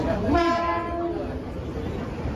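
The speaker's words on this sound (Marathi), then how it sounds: "आता पकडले ट्रेन विलेपार्लेवरून" A Mumbai local train from Vile Parle sounds its horn in a brief wavering blast over the steady rumble of the running train, which continues loud and close afterward.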